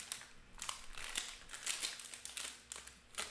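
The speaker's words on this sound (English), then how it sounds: "we pulled the pack out last time, so I'm going to shuffle them this time" A pack of trading cards being shuffled by hand, a series of quick crisp flicking and riffling bursts repeating in an irregular rhythm, close and fairly quiet.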